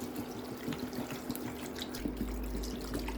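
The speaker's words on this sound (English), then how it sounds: "Let's add water" Water is poured from a tap-like stream into a cooking pot holding fried chicken, tomato paste and salt, giving a steady close splashing trickle with a low rumble building toward the end.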